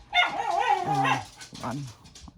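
Dogs bark and yip indoors, a few sharp, close barks with whiny rises spread over a couple of seconds, alone and without talk.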